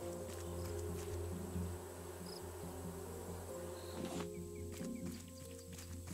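Steady insect buzzing from bees in the survival game Raft, a continuous low drone layered with other ambient game hums, no talking.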